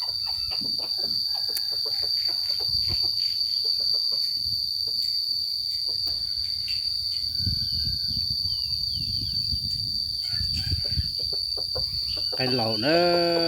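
Chickens cluck and call in a rural yard over a constant high shrill of crickets and insects, with soft scattered fowl sounds throughout and a louder call near the end.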